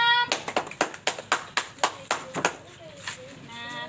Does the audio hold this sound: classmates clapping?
yes